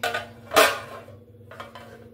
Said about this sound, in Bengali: এবার একটা ঢাকনা দিয়ে আমি এটাকে ঢেকে দেব